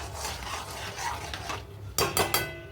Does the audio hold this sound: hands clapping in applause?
no